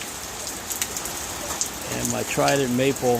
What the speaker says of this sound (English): my yucca is getting plenty of rain